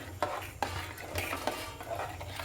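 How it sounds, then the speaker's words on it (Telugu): Ridge gourd dal with green chili being stirred in a pot, a spoon scraping and clinking softly against the metal in a few uneven strokes over a low simmering bubble, with no talking. "కొంచెం గ్రీన్ చిల్లీ వేసుకున్నాం కాబట్టి దీన్ని అయితే మంచిగా కలుపుకోవాలి"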